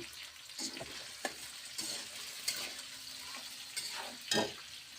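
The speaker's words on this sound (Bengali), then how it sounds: "টমেটোটাও ভাইজা নেব একটু লবণ দিয়ে দেবো স্বাদ মতন" Tomatoes sizzle in a hot pan with salt while being stirred, giving a steady frying hiss. Scraping, stirring clatter and small pops come through now and then.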